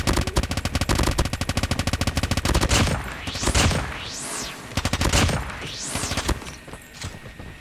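BK57 gun in a mobile first-person shooter firing bursts of bullets at a high rate: dense rapid rattling volleys, first a long sustained stream, then shorter bursts with whooshing effects between.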